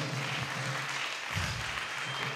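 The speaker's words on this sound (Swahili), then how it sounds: "Hebu pigeni makofi kwa jina la Yesu" Church congregation clapping together in steady, continuous applause that fills the room at moderate loudness, with no break in the sound.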